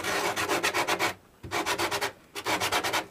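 Edges of a concrete Easter egg sanded by hand in quick rhythmic strokes, three close, loud bursts of rasping rubs separated by short pauses.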